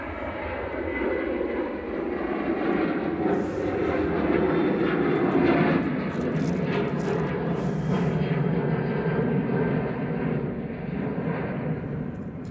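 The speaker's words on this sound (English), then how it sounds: "Okay, Ryanair going now to Brussels, adjacent." A Ryanair jet departs Manchester Airport with a loud, steady engine roar that holds strong and broad throughout, rumbling at close range with no talking.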